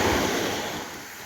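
Sea waves roll in at night on Sur beach in Oman, making a steady broadband wash of surf that fades slightly as the wave recedes. No voices are heard.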